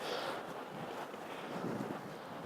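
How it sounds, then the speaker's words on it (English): Wind gusts buffet the microphone with a low, rumbling whoosh that swells and eases, faint and steady with no voices. "Kind of windy today, huh?"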